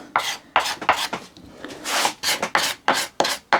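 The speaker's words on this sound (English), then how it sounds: "you can smooth out much better just with a little card scraper to spot scrape things" A card scraper works across wood on a hand-cut mitred half-lap joint, making a rhythmic series of crisp, rasping strokes, close and clear, with short gaps between passes and no talking.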